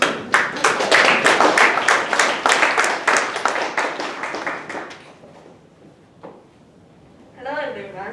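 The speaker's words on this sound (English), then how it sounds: "let's give you and Kurumi a round of applause" An audience at a school English speech contest applauds for a second-year student speaker, with dense steady clapping for about five seconds that fades out, followed by a lone clap and then a voice beginning to speak.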